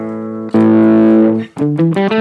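Electric guitar played through a Marshall JVM410H amp in a crunch setting, with a short chord, then a long sustained ringing chord and a few quick chords to finish, loud and close.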